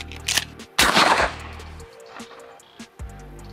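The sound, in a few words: Benelli semi-auto shotgun firing a slug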